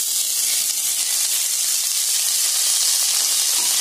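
Green beans added to onion and garlic sautéing in a pan give a continuous bright sizzle and hiss, steady and close throughout with no talking.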